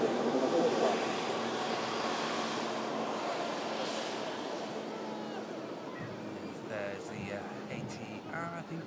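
An Egypt Air airliner taxis at Manchester Airport, its broad engine roar steady and fairly close, slowly easing off toward the end, with a person talking over it.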